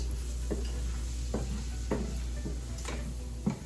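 Flour cooking down in sausage gravy for homemade biscuits and gravy bubbles in a pan over a steady low sizzle, with periodic scraping strokes of a spoon against the pan, no talking.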